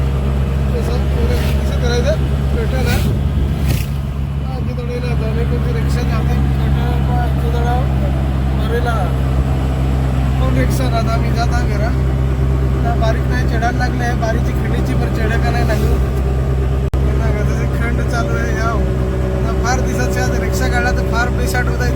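Auto rickshaw engine running steadily while driving uphill, loaded with luggage and about fifty kilograms of salt; a continuous low drone throughout, close, with road noise and people talking over it.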